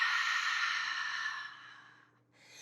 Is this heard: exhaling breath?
yes